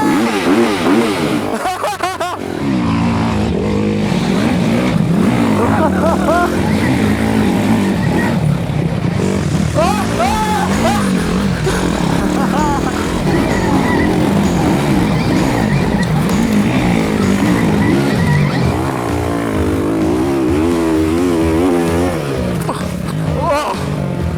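A small GP-style motorbike revs hard and skids repeatedly in a workshop area, loud rising engine whines and tire screeches, with excited voices talking over it throughout.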